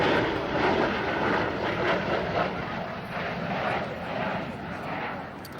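A military jet flies overhead at an air show in Michigan, giving a loud, broad roar that swells and fades unevenly throughout. An announcer speaks over the noise.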